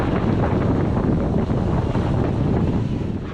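Strong wind roars across a sailboat at sea while beating to windward, a loud, steady, close buffeting rush over the microphone with a faint wash of waves beneath and no talking.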